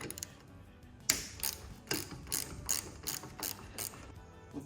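A ratchet undoing bolts on the roof of a 1974 VW T2 Late Bay Westfalia, a series of sharp, evenly spaced clicks, close and fairly quiet, with no voices.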